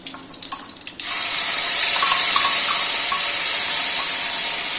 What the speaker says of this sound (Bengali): তেলটা গরম হয়ে গেছে, এবার জিরে আদাটা দিয়ে দিলাম।